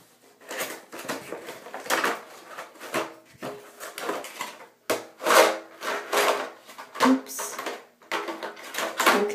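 A red and yellow Dragonball Z Super Battle Collection figure box gets opened, with close, repeated cardboard rubbing, scraping and tearing in bursts, plus rustling as the packaging is handled.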